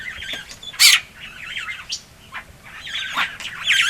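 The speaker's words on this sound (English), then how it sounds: "you're helping yourself to my breakfast here, little crested barbet" A little crested barbet calls at a bush campsite in Kruger, giving close, loud trilling phrases in repeated bursts, with a sharp squawk near the start.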